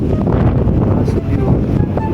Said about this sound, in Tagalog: Sobrang lakas ng hangin dito right now.